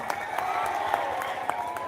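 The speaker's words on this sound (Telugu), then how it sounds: "సార్ ఇచ్చిన ఉపన్యాసం గురించి గట్టిగా చప్పట్లు కొట్టండి" An audience at a public meeting in Khammam applauds, with dense, steady clapping from a crowd that carries on evenly throughout, with voices faintly mixed in.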